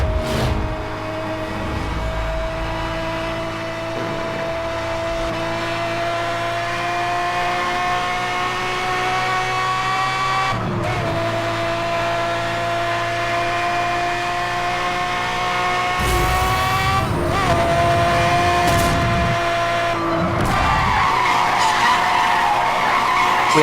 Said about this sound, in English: this car has quite good drifting, so it's a Lamborghini